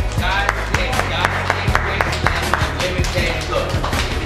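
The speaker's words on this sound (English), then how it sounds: "Clap for that, y'all. Clap for that." An audience at a casual talk session claps on request, with sharp, scattered handclaps ringing out at a steady pace over low, continuous background noise.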